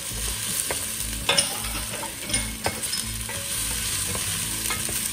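Mushrooms cook in a pot for a Venezuelan cream of mushroom soup while a utensil stirs them, giving a steady sizzle broken by a few scraping knocks against the pot.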